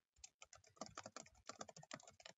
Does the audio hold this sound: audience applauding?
no